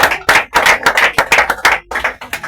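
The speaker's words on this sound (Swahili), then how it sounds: "Mpigie makofi." Congregation clapping at a Sunday church service, a loud close burst of rhythmic hand claps in quick succession over about two and a half seconds.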